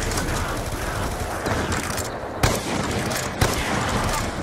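Dense gunfire rattles in Call of Duty: Black Ops 2, a loud continuous barrage of rapid shots with two sharper louder bangs standing out.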